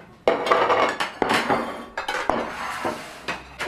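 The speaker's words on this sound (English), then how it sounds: "Putting out the finest silverware we have with the nice napkins, doilies." Silverware and dishes being set out on a table for a fire crew's dinner, clinking and clattering in several loud bursts with short pauses between them, close up and with no talk.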